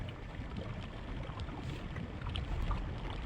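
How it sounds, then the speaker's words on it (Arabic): Volcano rumbling in the video game Fever Meme, a dense, steady low roar with hissing, windy texture that continues evenly and fairly softly throughout, with no talking. "في هنا صوت بركان"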